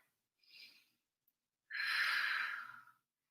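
Breathing during a yoga class: a short soft inhale followed by a pause, then a longer, louder airy exhale, close and alone in a quiet room.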